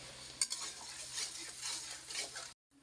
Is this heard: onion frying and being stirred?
yes